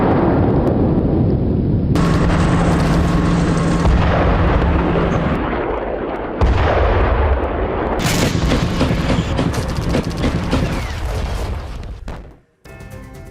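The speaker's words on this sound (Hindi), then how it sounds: "यूक्रेन के क्रिवी रीह में रूस की बमबारी हुई है।" Russian bombing and artillery fire strike Kryvyi Rih, Ukraine, as a series of loud, sustained explosive booms and rumbling blasts, each breaking into broad crackling noise, with a brief silence near the end.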